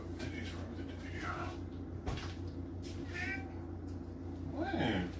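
A cat meows several times at close range in a kitchen, the cries rising and bending, amid light household rustling and a soft thump.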